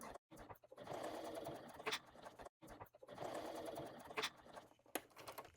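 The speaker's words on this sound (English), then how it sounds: "Back stitching." Sewing machine back stitching on a crossbody bag, running in rapid mechanical bursts with short pauses between, stitching close and steady at moderate loudness.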